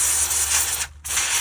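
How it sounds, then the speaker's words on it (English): WD-40 contact cleaner sprayed from an aerosol can into a rare 1949 2-rail model locomotive, a steady close hiss that cuts out briefly near the end before resuming. "I'm just going to give this a good spray through with the cleaner."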